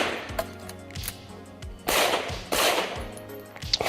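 Gunshots ring out during a USPSA practical shooting match stage as the shooter moves, a series of sharp, loud cracks at irregular intervals, some in quick pairs, with no talking.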